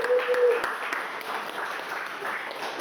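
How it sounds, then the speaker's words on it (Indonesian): Applause from a university lecture class, a steady spread of hand clapping that stays loud for a few seconds, with faint voices mixed in. "Kita berikan aplaus."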